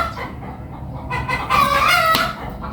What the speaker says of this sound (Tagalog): Ay, maingay yung manok.